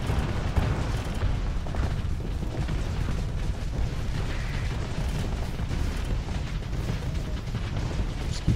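Torpedo strikes on a starship in the space combat game Starsector, a steady rumbling barrage of heavy impacts and booms blending into a continuous low roar, moderately loud with no talk.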